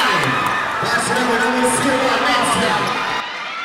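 Crowd at a basketball game cheering and shouting loudly and steadily, a dense wash of voices that drops off abruptly near the end.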